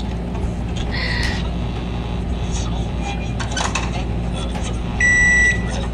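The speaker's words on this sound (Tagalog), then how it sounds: "Microwave." A single short electronic microwave oven beep, bright and steady for about half a second near the end, sits over continuous background music and a hum of voices.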